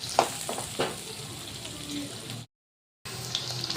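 Chopped onion and green chillies frying in a pan, a steady crackling sizzle with a few clicks of stirring early on, broken by a brief full silence before the sizzle resumes.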